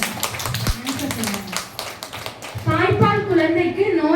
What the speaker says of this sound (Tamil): உச்சமாக கை தட்டுங்க